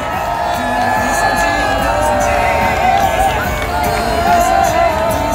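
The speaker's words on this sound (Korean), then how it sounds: "석동현 후보님 박수로 환영해 주시기 바랍니다." Crowd at an outdoor election campaign rally cheering and shouting in a steady, dense roar, with whoops and voices rising over continuous noise throughout.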